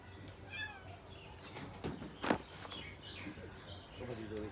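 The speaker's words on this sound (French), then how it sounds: "C'est Richard qui miaule." A pet cat meows indoors, a few short faint calls scattered through a quiet room with small rustles and footstep-like sounds.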